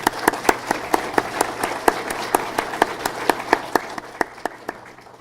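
Audience applause at a Hamvention amateur radio forum honoring active duty and retired military, sparse and distinct hand claps at a steady pace, fairly close, with no one speaking over them.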